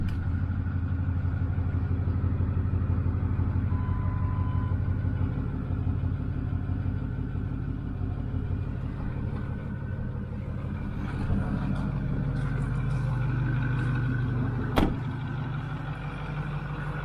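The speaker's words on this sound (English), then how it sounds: "the truck is running nice and smooth" A 6.4L Powerstroke diesel truck engine idles steadily just after start-up, a continuous loud low rumble with an even mechanical clatter, close by and with no talking.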